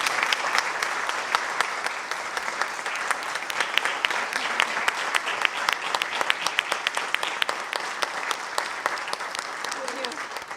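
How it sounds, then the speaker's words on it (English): An audience at a 2011 GMAP gathering applauds its faculty with sustained, dense clapping that holds steady and loud for the full stretch, with no talking over it. "I think you should give this faculty a cheer."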